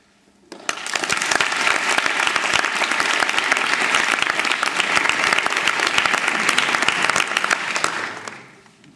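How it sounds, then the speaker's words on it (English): A large audience at an international law moot court award ceremony breaks into loud, sustained applause that starts suddenly. Dense clapping fills the room for about eight seconds, then fades away. "I finally would like to applaud the winning team on their achievement."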